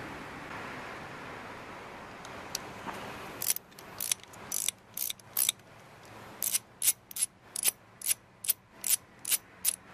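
A ratchet turns a 10mm bolt on a motorcycle's rear brake reservoir cover, giving close, crisp clicking bursts in a steady back-and-forth rhythm after a few scattered metal taps.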